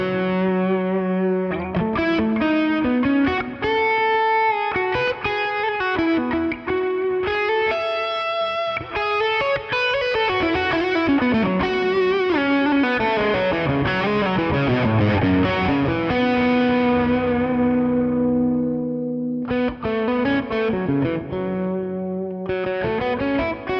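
An electric guitar played through a Fractal overdrive modeled on a Maxon SD9, heavy distortion, sustained chords and lead notes ringing continuously and loudly, with a short pause near the end.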